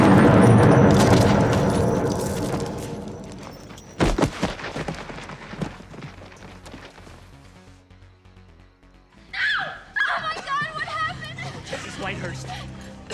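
A grenade blast in a Child's Play horror film scene: a sudden sharp boom cuts through a loud, dense orchestral score, followed by shouting voices and chaotic noise.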